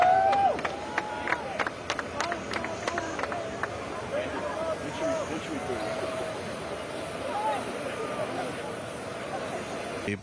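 A crowd in Atlanta reacts as President Trump arrives on Trump Force One, a steady distant murmur with scattered cheers and clapping under someone talking throughout.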